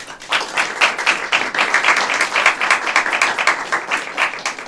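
A small audience at a talk gathering clapping together, distinct individual claps forming a lively, slightly uneven rhythmic patter, close and fairly loud throughout.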